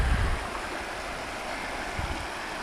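Broad steady rush of water from the Baker River, a river being scoped out for gold prospecting, flowing continuously nearby with no one speaking over it.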